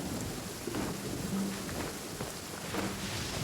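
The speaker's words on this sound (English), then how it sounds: "This rain ain't clearing it." Steady rain pours in the game Genshin Impact, a dense continuous hiss with low rumbling underneath and a few soft thundery swells, no voices.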